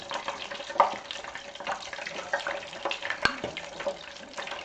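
Homemade pizza rolls fry in peanut oil, a continuous crackling sizzle with irregular pops and spits close by, and a few sharper clicks scattered through.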